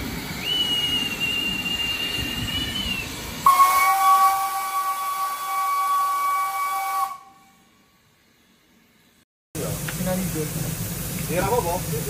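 A steam locomotive that pulls sugar cane trains at a sugar mill gives a loud, sustained whistle and steady hissing steam, then falls briefly silent before the hiss resumes nearby.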